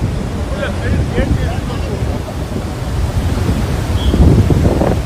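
Heavy water pours through the Tungabhadra dam, where a crest gate chain link has broken, as a steady, dense roar with no pauses, and faint voices are mixed in.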